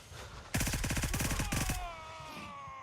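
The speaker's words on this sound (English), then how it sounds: "That's a mag dump." A rapid full-magazine burst of automatic rifle fire in the video game Gray Zone Warfare, a loud sustained string of about a dozen sharp shots lasting over a second, then a ringing tail fading into quiet.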